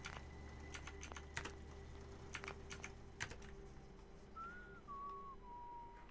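Someone whistles a short, falling tune near the end in Fallout 4, clear but modest in level, after a stretch of scattered keyboard clicks and faint background hum.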